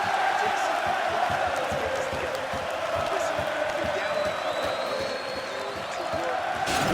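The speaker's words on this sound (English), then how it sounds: "the crowd voicing its appreciation after that round" Arena crowd in the EA UFC 4 video game cheering after a round, a steady loud roar of many voices that holds through the clip with scattered whoops and claps.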